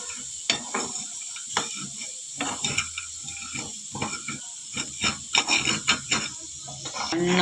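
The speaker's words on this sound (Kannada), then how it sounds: "ಸಣ್ಣ ಉರಿನಲ್ಲಿ ರೋಸ್ಟ್ ಮಾಡ್ಕೊಳ್ತೀನಿ" Peanuts roast over a low flame in a pan while being stirred, producing repeated dry scraping and rasping strokes in an uneven rhythm over a faint sizzle, close and moderately loud, with no speech.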